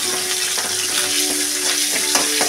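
Cumin seeds sizzle and crackle in hot oil in a karahi, a steady close frying hiss with small pops and a few faint stirring scrapes, no voices.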